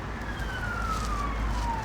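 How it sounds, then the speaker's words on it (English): A police siren wails past, its single tone sliding gradually lower as it moves by, over a low rumble of traffic. "We'll just let this siren go past."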